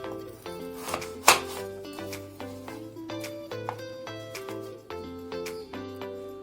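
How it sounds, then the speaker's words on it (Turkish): Steady knife chopping of oranges and lemons on a cutting board, a rapid series of crisp taps with ringing tonal background, one sharper louder knock early on, no voices. "portakallarımızı ve limonumuzu doğruyoruz"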